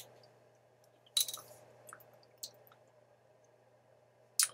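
Plastic water bottles of several brands, one a Clover Valley bottle with a small lid, being opened for a taste test, giving a few sharp crackling snaps and clicks spread apart in a quiet room.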